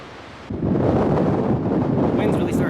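Strong wind on the Arizona Trail buffets the microphone in a loud, steady rush after a short quieter opening, with no voices.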